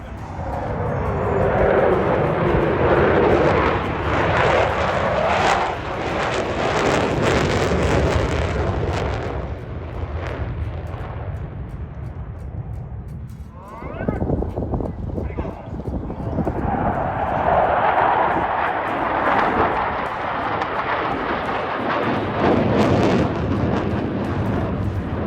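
Jet aircraft engines roar loudly during an air show flyover at the Duluth Air and Aviation Expo, producing 126,000 pounds of thrust; a sustained, powerful rumble swells and fades, with a brief dip midway, and voices audible underneath.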